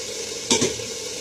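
Onions frying for chickpea biryani sizzle steadily in a pot, and a brief scraping stir cuts across the hiss midway through.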